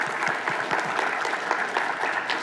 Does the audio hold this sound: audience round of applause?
yes